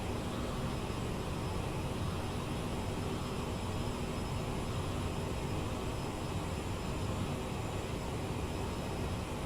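Aircraft engine in Microsoft Flight Simulator 2020 cruising at raised throttle, a constant, dense drone with an even hiss that holds steady throughout.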